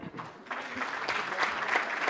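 Audience applause for Dr. Claude at a gathering, a dense wash of clapping hands that swells after a brief dip and continues steadily, with faint voices mixed in.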